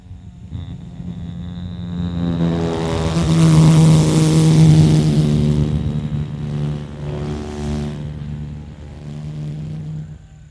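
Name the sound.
single-propeller airplane flying overhead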